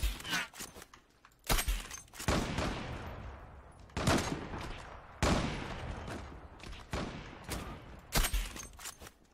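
Bursts of gunfire crack out in the online shooter Zula, several loud volleys separated by short gaps, each shot trailing off into a ringing decay.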